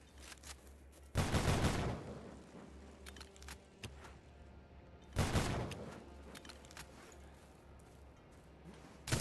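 Two heavy acid sniper rifle shots in a video game, each a loud burst with a short rumbling tail, spaced about four seconds apart over quiet background.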